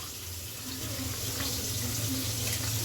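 Tap water runs steadily into a sink as rice is washed for cooking, a continuous splashing stream with no talking.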